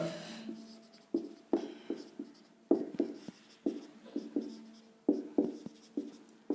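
Chalk or marker writes an example on a board during a chemistry lesson. It makes a quick, uneven series of scratchy strokes and taps, close and fairly quiet, with no speech over them.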